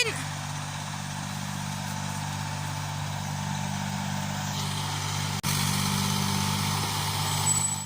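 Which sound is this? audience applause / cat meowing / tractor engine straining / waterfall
tractor engine straining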